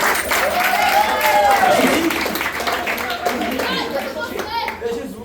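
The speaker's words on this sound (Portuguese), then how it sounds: "Palmas pro Jairo." Audience clapping in a classroom lecture setting, a steady burst of applause lasting several seconds before fading slightly, with some voices mixed in.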